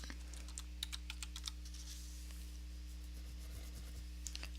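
Typing on a computer keyboard while writing Python code, quick irregular clusters of light key clicks over a low steady electrical hum, close and fairly quiet.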